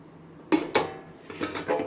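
A metal lid is set onto a cooking pot of simmering chicken curry, giving two sharp clanks close together, followed by softer clatter of cookware.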